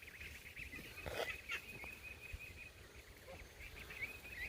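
A goose honks near a backyard pool, a few faint calls at a distance over steady outdoor background noise.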